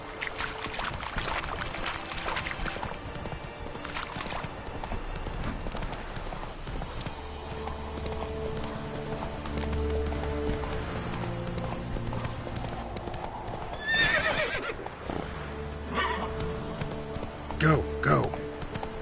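Hooves of a horse clip-clop at a steady gallop in the video game Witcher 3, a continuous rhythmic beat under background game music and ambience, with a voice talking over it.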